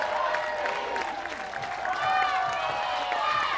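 Away fans cheer and clap at a college softball game as the UW players leave their dugout to fire them up, a steady mid-distance roar of applause and shouts with a swell in the second half.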